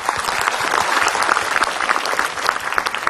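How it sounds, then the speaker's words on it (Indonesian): An audience on an Islamic religious television program claps for a preacher. The applause is lively and even, with individual claps standing out in the dense patter. "tepuk tangan buat Ustadz Maulana."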